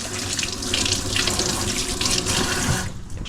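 A sink tap pours water in a steady, close, continuous splashing rush with no speech, easing off at the very end.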